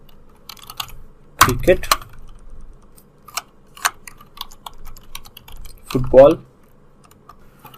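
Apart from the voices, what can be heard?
typing on a computer keyboard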